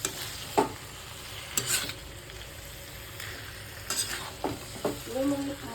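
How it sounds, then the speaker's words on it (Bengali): Chicken pieces in black pepper masala sizzle and fry as a spoon stirs and scrapes through them in a series of close, clattering strokes over a steady hiss, with no speech. "মাংসগুলো দিয়েও ভালোভাবে এবার নেড়ে চেড়ে নিতে হবে।"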